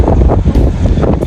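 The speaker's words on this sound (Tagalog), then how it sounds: "Lakas ng hangin, grabe." Strong gusts of wind buffet the microphone outdoors, giving a loud, continuous rumbling roar that swells and dips, with no talk.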